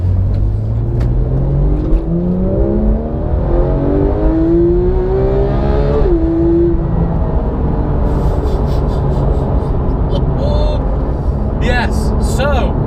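A Porsche 991 GT3 accelerates on a damp road, its engine note climbing steadily through rising whine and revs under loud road and tyre roar, with hiss building toward the end.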